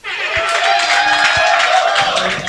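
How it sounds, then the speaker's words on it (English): Poetry slam audience applauding a performer at a televised event, dense clapping with some cheering that sustains steadily and loud throughout, close and filling the room. "with a resounding applause, put your hands together"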